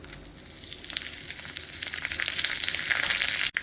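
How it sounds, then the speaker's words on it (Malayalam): Mustard seeds spluttering in hot coconut oil with fenugreek, dried red chillies and curry leaves for pineapple pulissery, a loud continuous crackling sizzle with dense rapid pops, ending in a sudden brief break. "കടുക് പൊട്ടി കഴിഞ്ഞിട്ടുണ്ട്."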